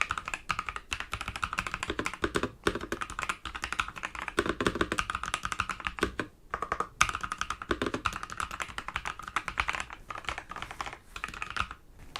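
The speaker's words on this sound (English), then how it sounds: "So now let's give you an example of the actual typing sounds" Rapid, uneven keystrokes on an ASUS ROG Strix Scope II NX Snow mechanical keyboard, with dense clicky taps and occasional heavier space bar hits, close and clear with no talking.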